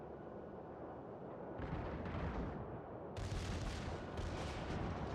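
World of Warships battleship HMS Warspite firing its main guns in the game, heavy booming salvos arriving in two or three loud bursts over continuous rumbling battle noise.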